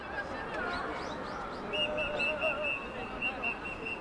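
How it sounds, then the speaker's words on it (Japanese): A referee's whistle sounds at a Japanese American football game, a series of short, shrill, high blasts heard at a distance under crowd noise and play-by-play commentary. "ここでホイッスル。"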